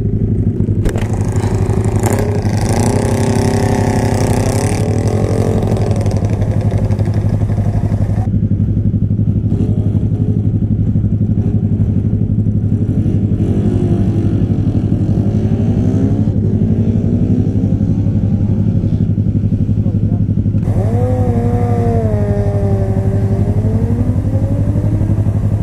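A very loud motorcycle at a bikers' event on an airfield runs close by with a constant deep rumble, rising through repeated revs and gear changes, with rattling mechanical clatter underneath.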